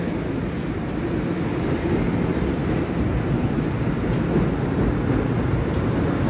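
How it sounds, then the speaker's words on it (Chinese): An EMU commuter train arriving at a station on a Taiwanese rail line, a loud continuous rumble and rolling roar of wheels and motors, steady and near, with no voices. "有列车进来。"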